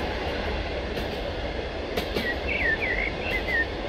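EP07P electric locomotive running on line 53 in the evening in the MaSzyna train simulator video game, giving a continuous rolling rumble with faint high wheel squeals toward the end.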